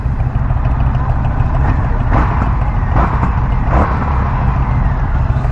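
A red-framed 2021 Indian FTR 1200 motorcycle engine runs steadily at idle, a loud continuous low rumble with a few brief throttle swells, heard alone without talk.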